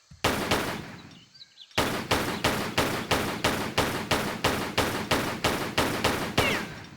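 Rapid enemy gunfire in Tomb Raider 3: after a short burst and a pause, a loud, even rhythm of sharp shots repeats about every third of a second, close and dry.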